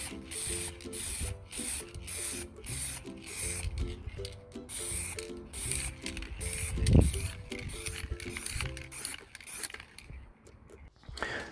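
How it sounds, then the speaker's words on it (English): An aerosol can hisses out a series of short, quick sprays in a steady rhythm, close by, with faint mechanical rattling between bursts. "give your decals some quick sprays with some clear varnish spray to seal the print"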